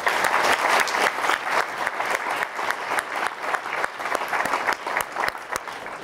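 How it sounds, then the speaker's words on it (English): A banquet-hall audience at a journalism awards dinner applauds steadily, dense overlapping hand claps filling the room at an even, sustained level from start to finish. "let's give them a round of applause"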